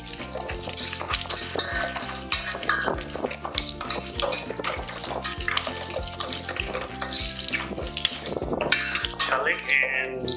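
Garlic fries in oil in a pan, a steady busy sizzle mixed with stirring, clattering utensils and pot sounds, loud and close throughout.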